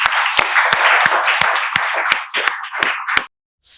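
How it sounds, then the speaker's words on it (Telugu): A group claps to welcome students at a spoken English institute, steady brisk applause with sharp individual claps standing out in an even rhythm, close and loud, stopping abruptly near the end. "మేమందరం చప్పట్లతో మీకు స్వాగతాన్ని తెలియజేస్తున్నాం"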